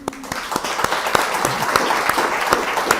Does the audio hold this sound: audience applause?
yes